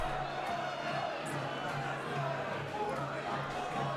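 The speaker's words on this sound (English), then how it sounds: "listen to the crowd here getting behind their men" A steady boxing crowd roar fills the whole stretch, with cheering and chatter blending into a continuous wash of noise at an even level.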